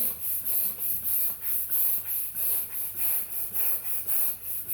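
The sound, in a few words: hand-operated balloon pump inflating a balloon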